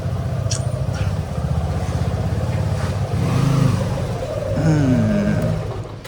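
A motor vehicle drives along a road, its engine giving a steady low rumble that swells slightly midway, with a voice speaking briefly over it.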